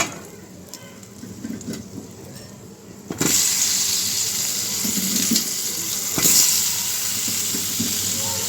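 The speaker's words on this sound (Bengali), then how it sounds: "তো আলুটা একটু ভেজে নেব লাল করে" Potatoes fry in oil with turmeric and salt over a low gas flame. It starts quietly, then a sudden loud, steady sizzle breaks in and continues to the end, with a few faint stirring knocks.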